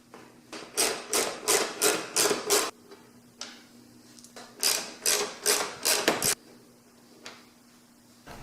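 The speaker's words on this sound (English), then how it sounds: "Next step is to remove the 3 torque screws that are over here in the front of the bumper" T25 Torx screws come out of a Ford Fusion front bumper in two runs of quick, evenly spaced ratcheting clicks, close and fairly loud, with a short pause between.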